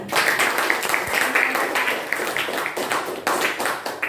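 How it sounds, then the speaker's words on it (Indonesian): A school class claps for a student called up to receive a reward, a steady patter of many hands close by that keeps going with no voices over it. "Tepuk tangan untuk Galang"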